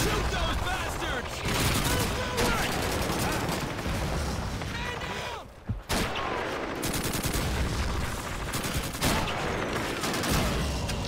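Gunfire in the video game Call of Duty 2 on veteran difficulty, dense bursts of rifle and machine-gun shots with booms, loud and nearly continuous, briefly dropping out midway before resuming.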